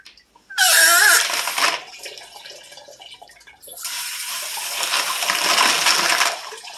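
Tumbled rocks being rinsed with running water, two loud bursts of splashing and gushing close by, the first short with a rattling clatter of stones, the second longer and steadier, separated by a quieter pause.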